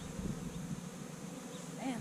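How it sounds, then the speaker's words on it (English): Bees buzz faintly but steadily nearby, a soft droning hum with individual insects rising and falling in pitch as they fly past. "that's a lot of bees"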